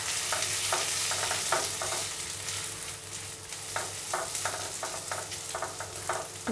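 Bhog rice and potatoes fry in a pan with a steady sizzle, broken by repeated scraping strokes of a spatula stirring the grains. The sound is close and continuous, with no talking.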